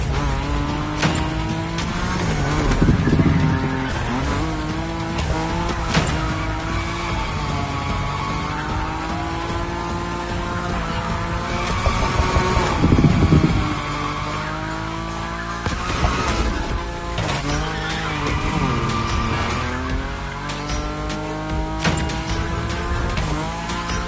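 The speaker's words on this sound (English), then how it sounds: "Your Nismo is powerful enough to slide along on its own when you're at high speed" A Nissan Nismo slides at high speed in The Crew Motorfest, its engine droning steadily with layered harmonic tones and swelling tire squeal during long drifts, loud and continuous throughout with music-like tonal bands.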